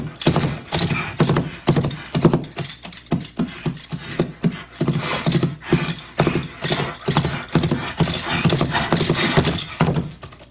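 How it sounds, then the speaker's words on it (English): Foley recording of a horse bridle jingling and rattling alongside horse snorts, in rapid, rhythmic, close bursts that repeat steadily without talk. "this is horse bridle"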